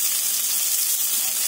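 Steady bright sizzling of trout frying in hot oil in a pan, a continuous crackling hiss without talk.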